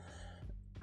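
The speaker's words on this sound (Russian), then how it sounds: "Что за кашель непонятный?" A single short, sharp cough bursts out loudly at the very end, after a faint low hum.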